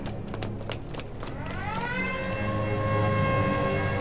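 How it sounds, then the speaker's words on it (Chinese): An alarm siren at a Japanese military airfield in a wartime film winds up after a second of clattering noise and then holds a loud, steady wail to the end. "是警报。"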